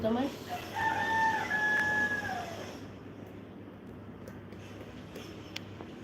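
A five-kilogram Sonali-type rooster kept on a home balcony crows loudly and close in the first few seconds, followed by quieter ambient noise with no talking.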